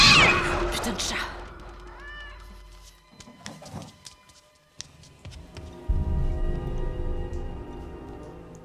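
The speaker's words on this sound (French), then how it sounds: "Putain de chat." A cat meows a couple of times, clear and fairly close at the start, amid a dramatic film scene with background voices and some rustling and knocking.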